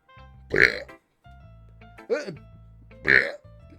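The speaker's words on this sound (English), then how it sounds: "That's her, by the way, burping." Three loud burps from a female character in the visual novel Doki Doki Literature Club, spaced about a second apart, heard over a quiet low music loop.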